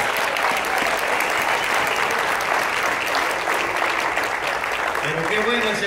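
Church congregation applauding in a dense, steady wash of clapping that fills the space for several seconds, a few voices murmuring beneath it.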